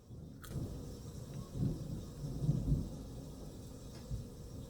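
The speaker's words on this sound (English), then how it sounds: "we have some thunder" Thunder from an autumn thunderstorm: a distant, low rumbling that swells and fades over a few seconds, with a faint wash of rain behind it.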